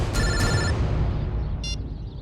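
A telephone rings with a call from an unknown number: two quick electronic ring bursts, then a brief further chime, clear over a low background hum.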